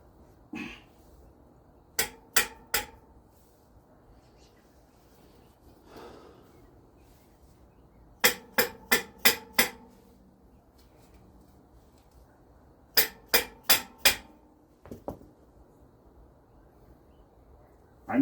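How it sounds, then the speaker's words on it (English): Hammer tapping a Raleigh Sports bicycle fork to free a friction-fit part, sharp metallic strikes in quick clusters of three to five, separated by quiet pauses. "Tap it with the hammer."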